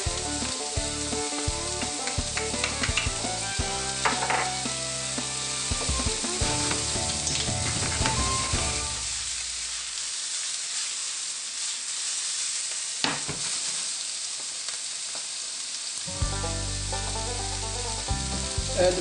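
Garlic sizzles loudly in a hot pan, crackling and spitting up close; the frying drops away midway to near quiet with a few clinks, then the sizzle surges back.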